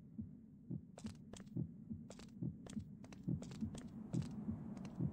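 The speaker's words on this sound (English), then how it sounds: "A loud heartbeat somewhere." A loud, steady heartbeat pulses in a video game, the thumps coming in regular double beats over a low hum with no talking.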